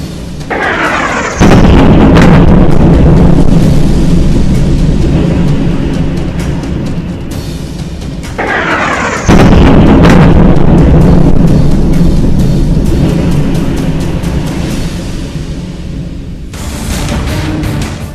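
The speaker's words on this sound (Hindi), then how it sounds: "इसी प्लान के तहत कीव पर मिसाइलें बरसाई जा रही हैं।" Missile strikes and explosions rumble over Kyiv during wartime, with heavy booms and long, loud roaring blasts recurring several times across the span, each a dense, sustained rumble with sharp onsets.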